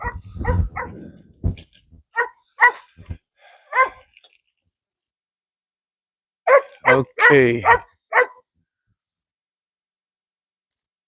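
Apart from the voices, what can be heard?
dogs barking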